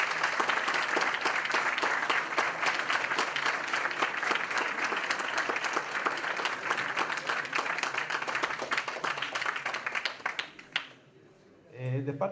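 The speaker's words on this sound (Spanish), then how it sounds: "un fuerte aplauso," Long, loud round of audience applause at an academic event honouring a doctor, dense rapid clapping from many people that tapers off near the end, where a voice briefly speaks.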